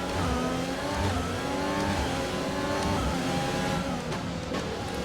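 Formula 1 race car engines in the game F1 2020 at Zandvoort, with Sebastian Vettel's car close by; loud, continuous high-revving engine whine with shifting pitch and gear changes, close and sustained with no talk over it.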